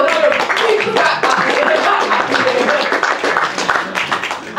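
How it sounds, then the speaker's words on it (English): Guests at a parliamentary reception for small business clap in a room, a crisp, fairly close burst of many hands with some voices mixed in, holding steady for nearly five seconds. "So applaud"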